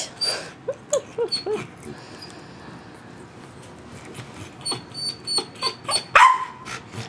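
A dog barks in a series of short, sharp yips and woofs, in a cluster at first, then a quieter stretch, then another run of barks ending in a louder whine-like yelp, close and alone.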